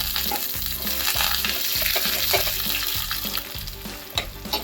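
Dry red chillies and curry leaves crackle and sizzle in hot oil for a dal tadka, a dense, steady frying hiss with a rhythmic stirring scrape running through it, close and fairly loud with no talk.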